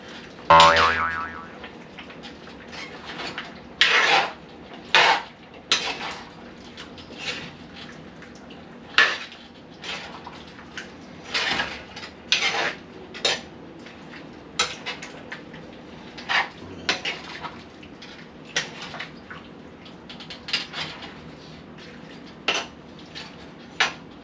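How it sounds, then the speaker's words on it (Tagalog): Menudo is stirred in a cooking pot with a metal utensil, giving repeated close clinks and scrapes against the pot that come in irregular bursts for over twenty seconds, without speech. "Haluin natin ng haluin."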